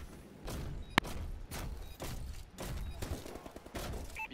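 Gunfire in a Call of Duty match, repeated bursts of shots and thuds at moderate distance with one sharp close crack, faint and uneven against game ambience.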